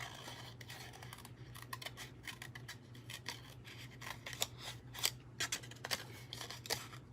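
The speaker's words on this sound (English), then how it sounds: "this one we're just going to fussy cut" Small craft scissors fussy-cut around stamped words on paper for a fun fold card, making quick snipping clicks in irregular bursts over a steady low hum, close and fairly quiet with no talking.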